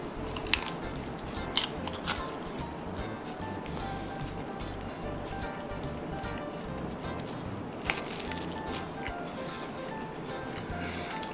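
Someone bites into a crunchy spring roll that was frozen and then heated in a microwave, giving a few sharp crunches and crackly chewing close by over a steady background hiss.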